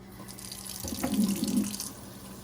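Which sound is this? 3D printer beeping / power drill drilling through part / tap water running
tap water running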